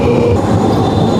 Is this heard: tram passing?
yes